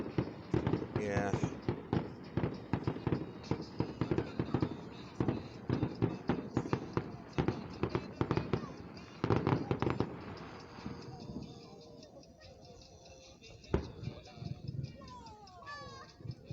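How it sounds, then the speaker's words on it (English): Fourth of July fireworks show in Van Wert, Ohio, bursting in a rapid, dense barrage of booms and crackles that thins out toward the end, with a few loud isolated blasts and crowd voices heard underneath. "Fireworks do make some good, beautiful art."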